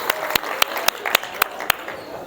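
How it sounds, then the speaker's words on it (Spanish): An audience at a motivational talk for young people applauds with a dense, close patter of clapping. Loud sharp claps or slaps cut through it at regular intervals, and a voice can be heard faintly underneath. "aplauso fuerte para todos vosotros"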